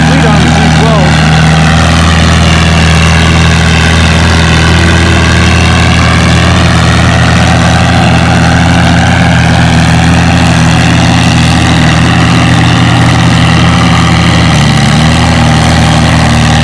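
A V12-engined pulling tractor idles at an outdoor tractor pull, a loud, steady, throaty rumble that holds constant throughout with a slight dip near the end.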